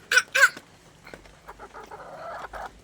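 Laying hens at feeding time give two loud, harsh clucking squawks close by, then a run of softer, lower clucks and murmurs.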